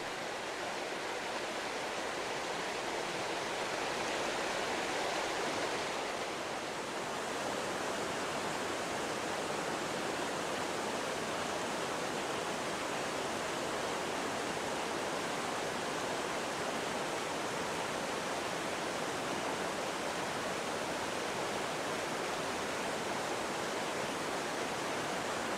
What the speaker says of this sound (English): The river rushes approximately 486 meters down the mountain at an incline